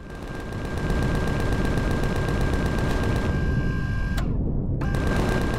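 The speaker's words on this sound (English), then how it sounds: "Now, I bet you if I use my Gatling guns," Gatling guns firing in the Empyrion Galactic Survival video game: a continuous, loud, rapid mechanical stream of shots that runs for several seconds, breaks off briefly near the end, then resumes.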